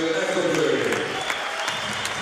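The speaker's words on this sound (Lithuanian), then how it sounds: "Martinas Ekodas išvydimas plojimais" Basketball arena crowd applauding a player during a Lithuanian league game, Lietuvos rytas versus Šiauliai; steady broad clapping fills the whole stretch, with a faint tonal hum running underneath.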